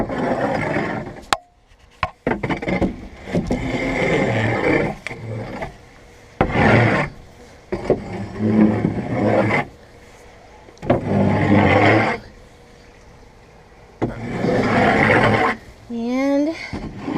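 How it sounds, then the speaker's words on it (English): Repeated rough scraping strokes clearing old bedding from a chicken coop with molting hens, coming in loud bursts separated by quieter gaps, while a person speaks nearby. "Scrape her out."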